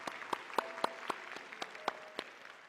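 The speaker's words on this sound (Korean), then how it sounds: "저희 뜨거운 환영의 박수로 맞아드리겠습니다." Sparse welcoming applause from a church congregation during a Sunday worship service, a handful of distinct, spaced claps heard fairly quietly over about three seconds rather than a full ovation.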